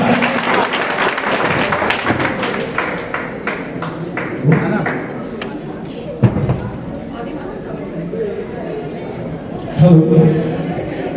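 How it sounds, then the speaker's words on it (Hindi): Dense clapping from a crowd at a literature festival in Chittorgarh starts strong, then thins to scattered claps under ongoing speech and chatter. "बेटा जोरदार तालियां बजा दें आप एक बार"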